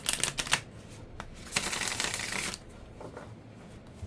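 Tarot cards shuffled by hand in a few quick riffling bursts, crisp and close, with a longer continuous shuffle toward the middle before it settles into quiet.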